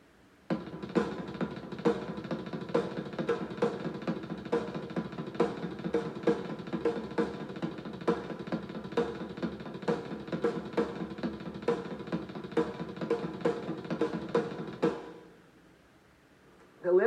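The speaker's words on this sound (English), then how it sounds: "to create sort of a halftime snare backbeat feel." A drum kit plays a steady groove for about fifteen seconds, with the left hand adding a halftime snare backbeat over dense, even strokes, loud and close, then it stops abruptly. No one talks over it.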